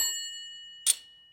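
Cartoon telephone bell ringing, a single sharp metallic ding with a bright shimmering ring that decays quickly, following a fading tail of an earlier ring, in near silence.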